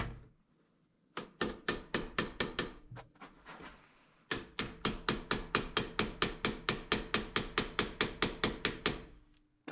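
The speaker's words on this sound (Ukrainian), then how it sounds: "О, зараз треба підстукати." Metal hammer tapping on a Skoda car part during bolt removal, a few scattered knocks followed by a long, steady run of evenly spaced sharp taps, close and clear with no talk.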